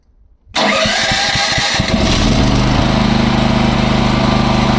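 A Champion CPG7500E2-DF-EU dual-fuel generator running on LPG catches after a short silence, sputtering through a few rapid firing pulses before settling into a loud, steady running drone.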